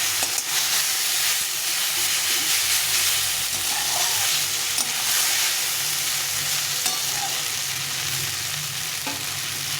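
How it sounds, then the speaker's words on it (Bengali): Vegetables and fish frying in a pan give off a steady, close, dense sizzle that runs unbroken throughout, with occasional faint stirring. "মাছটার সঙ্গে একটু সবজিটা ভেজে দেবো।"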